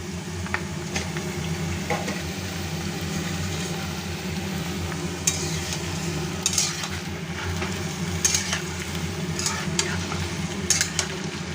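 Chopped onions, about 600 grams, sizzle and fry steadily in a pan while being stirred for a mutton dish, with a continuous frying hiss and occasional scraping clinks of the spoon against the pan.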